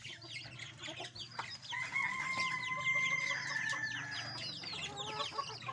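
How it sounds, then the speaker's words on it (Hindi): Roosters at a home coop cluck and crow repeatedly at close range, their calls overlapping with other fowl noise in a continuous, busy chorus with no talking. "जो नीचे मैंने मुर्गे रखे हुए थे ना, वो भी मैं ऊपर ले आया हूँ"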